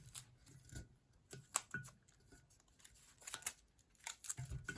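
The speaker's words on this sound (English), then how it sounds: "Take a piece of tape, and like I said, I'll hold it really tight" A strip of tape is pulled off and torn while tumblers are wrapped for sublimation, heard as faint close rasping peels and sharp tearing snips scattered across the moment.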